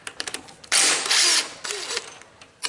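A ratchet wrench clicks in short bursts, then a power tool whirs loudly for about a second while loosening the head bolts on a non-running lawn mower engine, followed by more ratcheting clicks.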